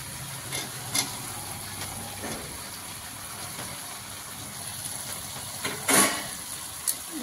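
Tomatoes dropped one by one into a hot pan with ginger, garlic and green chili paste for an egg curry, giving a steady background sizzle with a few louder bursts as pieces land.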